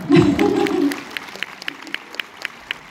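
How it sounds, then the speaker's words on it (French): An audience at a film premiere in Orléans bursts into a short, dense round of clapping that quickly thins to a few scattered, evenly spaced claps. "c'est vrai qu'elle aime bien les applaudissements"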